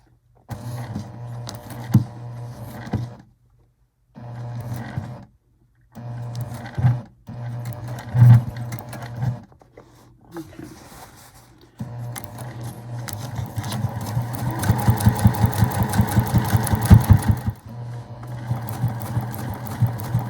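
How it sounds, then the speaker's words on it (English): A sewing machine stitches through the thick layers of a tote bag with French seams, first in short stop-and-start bursts with brief silences, then in a longer continuous, rattling run. "I'm going to go ahead and stitch through the thickness and then do my back tack on the other side"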